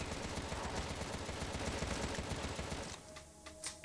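Rapid continuous machine-gun fire in the game Contra: Rogue Corps, rattling loud and steady for about three seconds before cutting off, followed by a few softer effects.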